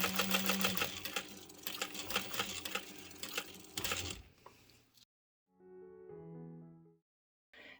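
A sewing machine stitching a decorative bag strap at a 1/8-inch seam, with rapid, rattling bursts of needle strokes over the first few seconds, then a quieter, steadier mechanical whir before it stops.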